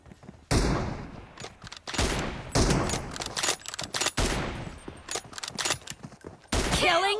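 Gunfire in the mobile game PUBG during a 1v1 M24 sniper rifle team deathmatch, a string of loud sharp shots and bursts with brief pauses between them.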